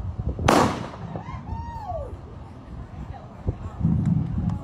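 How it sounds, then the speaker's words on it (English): Guns fire blanks at a bank shootout show: one sharp, loud report rings out near the start, then fainter pops and crowd noise follow, with people talking in the background. "What can happen if you get too close to these guns when they go off?"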